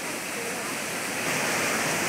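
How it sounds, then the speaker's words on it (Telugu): An artificial waterfall at a tourist attraction pours with a steady, dense roar of falling water, continuous and fairly close, with no pauses and no clear talking over it. "చూడండి న్యాచురల్ వాటర్ ఫాల్స్ లాగా బాగా సృష్టించారు."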